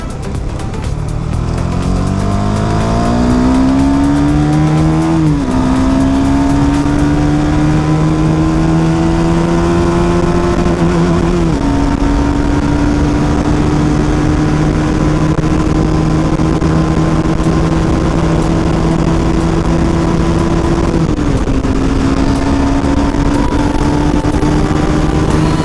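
A KTM Duke 250 motorcycle with upgraded tyres is ridden flat out in a top-speed run. The engine drone is loud and close, climbing steadily in pitch through three gear changes, with wind rush throughout.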